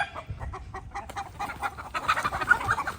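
A farmyard chicken clucks in short repeated bursts while being chased by a guard dog, the clucking growing louder and more agitated toward the end, up close.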